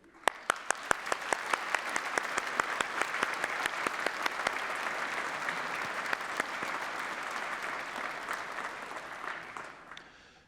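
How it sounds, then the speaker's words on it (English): A graduation ceremony audience at the University of Manchester applauds the graduands, steady full-room clapping lasting about ten seconds with a few sharp close claps standing out before it tapers off. "we and you should take this opportunity to applaud our graduands in recognition of their achievements"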